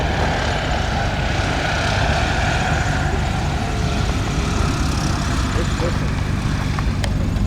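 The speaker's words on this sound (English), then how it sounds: "the Baron returns, a scraping run on the SPAD" A vintage World War I-era biplane's propeller engine drones steadily overhead during a dogfight display at Old Rhinebeck Aerodrome, a loud continuous buzzing roar that persists throughout with some faint background noise.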